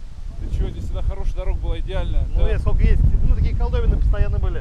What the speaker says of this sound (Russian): потому что сегодня у нас шквалистый ветер, где-то 15 метров в секунду.